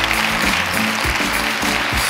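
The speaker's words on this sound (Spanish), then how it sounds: "gracias por aplaudir este baile" Studio audience on a late-night show applauding a dance, a full, loud wash of clapping over a rhythmic low musical beat that pulses steadily underneath.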